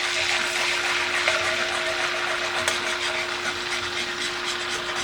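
Steady, close scraping and swishing of a whisk working pasta water and butter together in a pan, continuous with light metallic ticks and a faint hum underneath, no talk.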